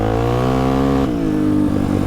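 A stage 3 Polaris RZR XP Turbo engine revs on a trail, a loud close buzzing drone that climbs, dips sharply, then surges again in a couple of quick throttle changes.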